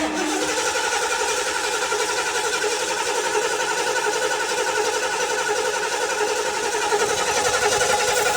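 A 1978 Lincoln Continental engine turns over under steady, continuous cranking, loud and close throughout with no pause and no voices, its engine finally catching and picking up slightly near the end.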